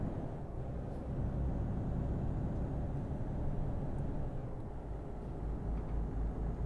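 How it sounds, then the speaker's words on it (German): Six-cylinder truck engine from Stuttgart in Euro Truck Simulator, a steady low diesel rumble droning continuously at even loudness with no speech over it. "Da hört er fauchen. Den Sechszylinder aus Stuttgart."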